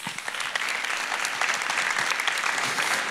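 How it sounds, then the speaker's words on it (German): A church congregation claps in a dense, continuous burst of applause, close and lively, sustained across the whole span with no speech over it. "Ein Applaus"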